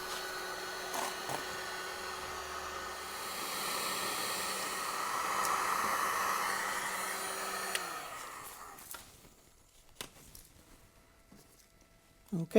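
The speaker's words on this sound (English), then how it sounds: "Okay, I have my heat gun here. I'm going to go ahead and get this guy softened up." Heat gun blowing hot air to soften a cap while a Husqvarna garden tractor mower is being worked on, giving a steady airy whoosh for about eight seconds that stops, followed by quiet and faint handling clicks.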